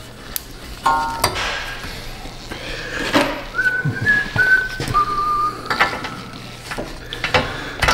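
A man whistles a short, wandering tune in a garage while doing a front brake job on a 2019 Subaru Forester, the melody broken by clicks and clanks of tools and parts.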